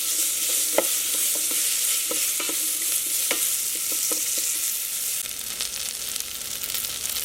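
Slit green chilies fry in hot oil inside an Instant Pot for Andhra-style dal rasam, giving a steady crackling sizzle punctuated by scattered sharp spatters and stirring clicks, close and unaccompanied by speech.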